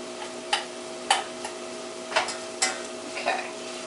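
Chopped onions sizzle in a hot pan for a roasted butternut squash and salami soup, while a utensil stirs them in a series of sharp scraping strokes over a steady, close frying hiss.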